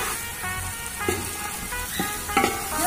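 Food frying in a pan crackles and sizzles up close while a spoon scrapes and stirs in a few uneven strokes.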